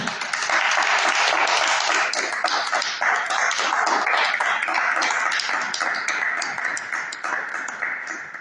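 Loud, sustained applause from a church congregation, with a dense wash of many hands clapping close by and no break for the full stretch.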